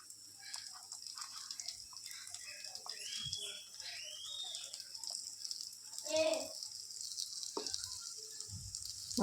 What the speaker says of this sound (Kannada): ಈ ರೀತಿ ಮಸಾಲೆಯಲ್ಲಿ ಡಿಪ್ ಮಾಡಿಬಿಟ್ಟು ಈ ಪ್ಯಾನ್ಗೆ ಈ ರೀತಿ ಹಾಕ್ಕೊಂಡು ಬಿಡಬೇಕು